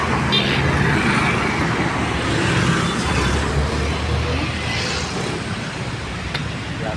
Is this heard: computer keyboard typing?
no